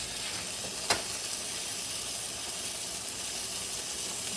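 Noodles simmer and bubble in a pot with a steady sizzling hiss, while a single sharp clack of a utensil against the pot rings out early on, with no talking.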